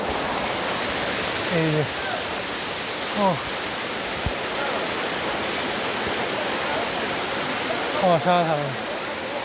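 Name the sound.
Katiki waterfall spray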